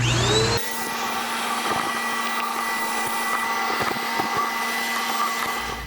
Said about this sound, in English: We'll just use our vacuum and hose attachment.